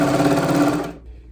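A sewing machine stitching a T-shirt runs in a loud, close, steady whirring burst that stops abruptly near the end.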